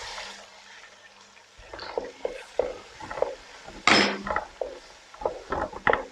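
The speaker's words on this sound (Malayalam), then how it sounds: "നമുക്ക് കൊച്ചുള്ളി ചേർത്ത് കൊടുക്കാം." Shallots hitting a hot pan for Kerala-style kappa biryani give a sizzle with wooden stirring clicks and scrapes, growing busier and louder partway through, with no talking.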